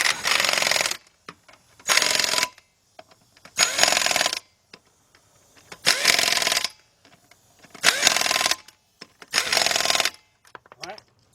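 A power tool tightens the wheel lug nuts on a 2003 Chevy Trailblazer, firing six loud, close rattling bursts of about a second each, evenly spaced with quiet gaps between them.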